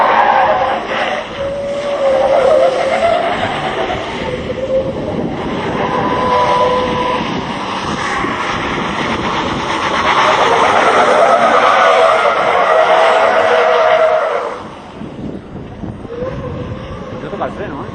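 A truck drifting with its tyres skidding and squealing in a long, loud, continuous sustained run, engine noise beneath, easing off near the end; excited voices talk over it.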